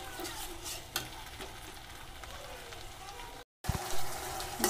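Tomatoes frying with spices for masala chana give a close, steady sizzle with stirring scrapes, a brief silent break, then louder clattering stirring.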